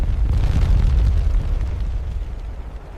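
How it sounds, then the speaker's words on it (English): A Jastreb jet exploding after a missile hit, a loud, deep rumbling blast with crackling debris that slowly fades over a few seconds, with no voices. "The Jastreb explodes into flame and scrap."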